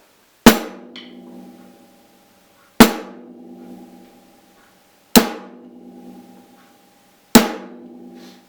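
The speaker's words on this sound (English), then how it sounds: "you're going to play hi-hat and snare together. It's going to sound like that." Four evenly spaced hi-hat and snare hits played together, each a crisp snare crack with a ringing decay, spaced about two seconds apart with silence between.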